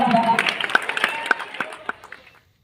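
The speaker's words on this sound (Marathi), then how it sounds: "जोरदार टाळ्या वाजवा." An audience at a junior college prize distribution and farewell ceremony applauds a student receiving a trophy, a brief burst of crowd clapping with distinct sharp claps that fades out within a couple of seconds.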